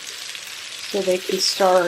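Leftover potatoes fry and brown in a pan, giving a steady close sizzle that runs throughout while a voice speaks briefly over it.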